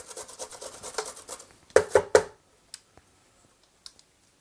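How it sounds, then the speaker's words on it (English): Cucumber coarsely grated by hand, a quick run of rhythmic rasping strokes followed by a few louder scrapes and scattered light clicks, close and without talk. "Then we just want to grate it,"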